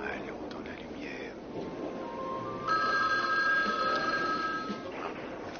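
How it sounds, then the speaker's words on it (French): A telephone rings with a steady electronic warble over a muffled room tone; hushed voices are heard, and the ring is moderately loud in the middle of the stretch. "Mais je le sais parce que l'appareil sonne faux."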